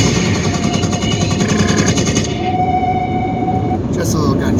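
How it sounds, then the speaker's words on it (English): Rapid bursts of gunfire crackle in a dense, steady stream over a loud, noisy background, with no voices. "Just a little gunshots."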